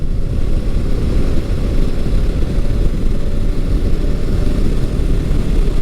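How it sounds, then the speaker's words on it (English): First-generation Kawasaki Versys 650 motorcycle engine running loud and close with a steady, continuous low rumble, no voices over it. "It's got a nice sound to it as you rev it up."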